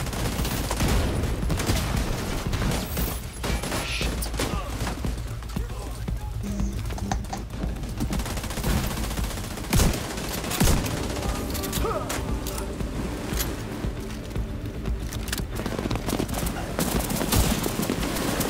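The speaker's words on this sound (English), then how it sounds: "I'm getting on the big gun." Mounted heavy machine gun in The Division 2 fires in sustained rapid bursts throughout, loud and dense, layered with other gunfire and clattering combat noise while voices talk over it.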